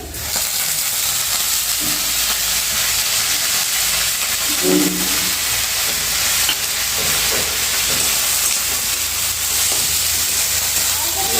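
Coriander leaves fry with chilli, garlic and ginger for a spiced potato filling, giving a loud, dense, unbroken sizzle with occasional stirring scrapes from a spatula in the pan.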